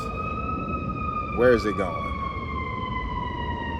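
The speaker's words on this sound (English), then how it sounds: "it's not an ambulance, that's a fire truck." A fire truck siren wails steadily through the whole stretch, sliding gradually downward in pitch as it moves past at moderate distance, with a person briefly speaking over it partway through.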